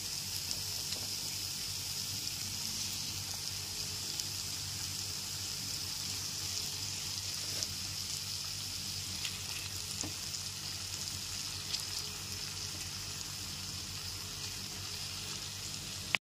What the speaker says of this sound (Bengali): এরপর এর মধ্যে দিয়ে দিচ্ছি লবণ ও হলুদ মাখানো লোটে মাছগুলোকে